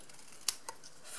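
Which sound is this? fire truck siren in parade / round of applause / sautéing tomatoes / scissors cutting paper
scissors cutting paper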